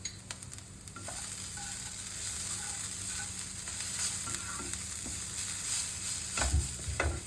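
Food frying in just a little oil in a pan for breakfast gives a steady close sizzle, with stirring scrapes and a brief louder clatter near the end.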